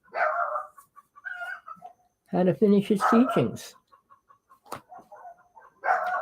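Dogs barking in a noisy neighborhood that also has roosters and chickens, short barks and yaps scattered between and under a man's speech, moderately close.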